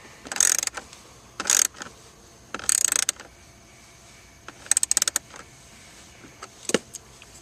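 Ratchet socket wrench turning a bolt on a blower, heard as several short bursts of quick metallic clicking separated by pauses, close and fairly loud.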